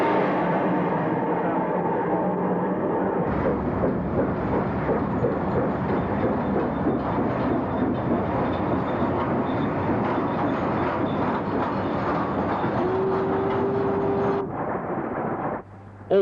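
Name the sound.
steam locomotive 44937 hauling soda ash freight train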